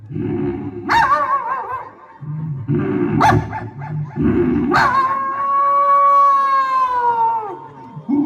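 A voice mimics a puppy with a series of whimpering yelps and a long, wavering whine, loud and close.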